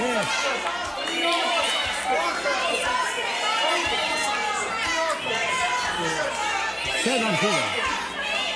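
Studio audience on a Serbian price-guessing game show shouting and calling out loudly, a busy overlapping crowd of voices with a host's speech mixed in.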